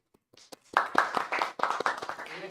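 Applause after a talk at a Flutter developer meetup in Montreal, a burst of clapping from the audience starting abruptly and continuing steadily, fairly close, with a few voices mixed in.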